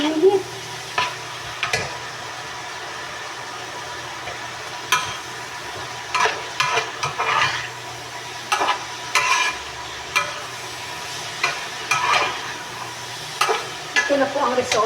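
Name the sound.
meat cooking in broth in a pot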